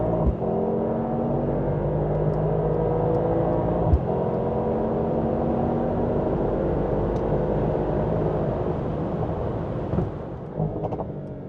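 A Mercedes-AMG GT 63 accelerating from 0 to 100 km/h gives a loud, sustained engine roar that holds steady for the whole stretch, with no talking over it.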